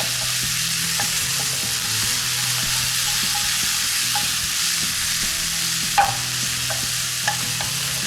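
Minced meat frying with onion and garlic in a pan, a loud continuous sizzle with regular stirring and scraping strokes close up, a couple of sharper knocks near the end, no voices.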